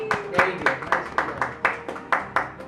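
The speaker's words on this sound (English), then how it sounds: "Let's give them a round of applause" A small group claps for contestants after a tongue-twister challenge on a business-edition game show, a steady rhythmic run of about ten distinct claps, close and moderately loud.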